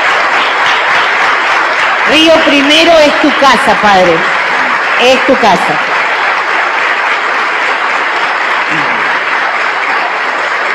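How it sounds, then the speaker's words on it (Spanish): Loud, sustained applause from a parish congregation during a patronal novena, a steady wash of clapping throughout, with a man and then someone speaking over it partway through. "queremos expresarte nuestro cariño con el aplauso"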